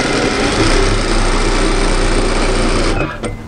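A sewing machine stitches steadily across the top edge of a cross-back apron with the straps sandwiched in, a loud, continuous high-speed whir up close that stops abruptly near the end.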